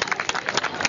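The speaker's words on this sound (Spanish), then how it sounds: "Un aplauso para ella antes de que intervenga." A crowd applauds the league queen at a children's football festival, a quick, uneven patter of clapping heard close and fairly loud over a brief moment.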